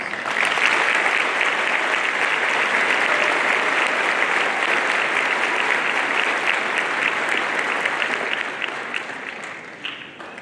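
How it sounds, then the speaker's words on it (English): Sustained, dense audience applause fills a graduation ceremony for the Class of 2021, staying loud and steady throughout before easing slightly at the very end. "Please join me in giving our biggest supporters a huge round of applause."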